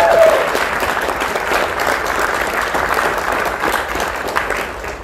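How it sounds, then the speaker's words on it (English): A convention panel audience at PAX 2023 applauds the composers and sound mixers of a fan film, a loud, steady wash of clapping from a large crowd that holds evenly throughout. "Please give them a warm round of applause."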